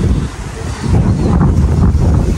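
Strong wind roars and buffets the microphone in a continuous low rumble, with a faint wash of water in the background.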